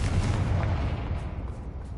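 A Confringo fire spell goes off in Hogwarts Legacy as a loud, sustained low boom with a rumbling blast tail that holds steady and slowly eases over two seconds, with no voices.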